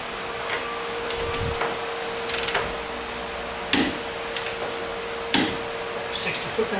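Torque wrench tightening the ball joints on a 2002 Jeep Liberty front suspension, a series of ratcheting clicks and a few sharper metallic clacks in short bursts over a steady hum, with someone talking throughout.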